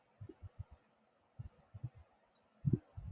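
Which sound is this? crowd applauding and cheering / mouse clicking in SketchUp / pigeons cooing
mouse clicking in SketchUp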